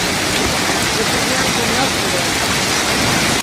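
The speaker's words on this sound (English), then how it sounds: "Strong winds and hail struck central Minnesota" A central Minnesota storm with strong winds and hail makes a loud, dense, unbroken roar that fills the whole stretch before cutting off abruptly at the end.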